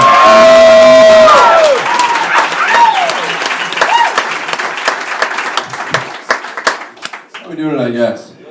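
A comedy club audience applauds and cheers loudly, with dense clapping and whoops that gradually thin out as a voice starts talking over the fading applause.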